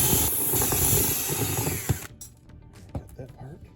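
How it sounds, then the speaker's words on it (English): A power drill bores out a rivet on a Getaway pinball machine's ramp flap, whining loud and steady for two seconds before stopping, followed by clicks and handling noises. "we're going to go at the other side here, see if we can get this one drilled out similarly"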